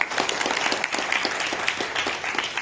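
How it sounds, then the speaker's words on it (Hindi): An audience at a talk claps for a man named Rakesh, producing a short burst of scattered hand claps with uneven individual slaps that rise and dip over a couple of seconds. "राकेश भाई के लिए तालियां होनी चाहिए"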